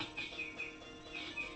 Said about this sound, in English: Apparently he's got birds in his house.